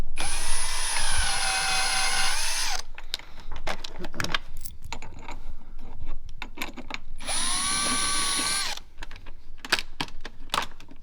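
A power tool whirs loudly in two bursts as it removes dash panel bolts on a Can-Am Defender HD11 utility vehicle, with metallic clinks and rattles of bolts and tools between the runs, close up, no talking.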